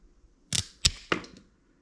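Three sharp cutting snaps in quick succession while trimming a part during a Trek 6700 mountain bike drop bar conversion, close and crisp against a quiet room.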